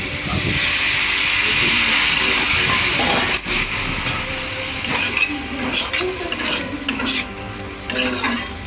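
Water poured into a hot pan of frying soya chunks, a loud burst of hissing steam and sizzling with scraping stir strokes of a utensil that continue and fade slightly.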